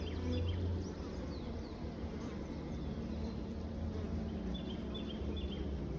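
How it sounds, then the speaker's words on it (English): Honeybees at a hive drone in a steady, dense buzz close by, with individual bees zipping past over the continuous hum. "So there's some beautiful bee footage."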